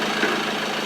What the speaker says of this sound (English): One new engine. Sounds heaps better